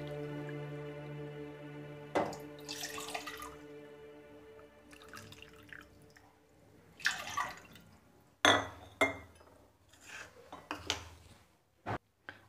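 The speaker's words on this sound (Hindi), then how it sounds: "बर्तन में 2 कप पानी डालना है।" Water is poured into a cooking pot in a home kitchen, with trickling and dripping, then a few splashes and sharp clinks of metal against metal. The sounds are near and fairly quiet, with no talking.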